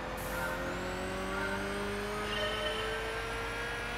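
A Ferrari F40 in Gran Turismo 6 on the Ascari track, its engine holding a steady, loud drone with a slowly rising pitch and no voices over it.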